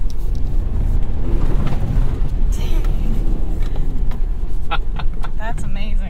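A 2021 Chevy Colorado ZR2 truck drives through mud with a constant loud rumble of engine and tires, while splashes and clunks come near the end and a voice talks over it.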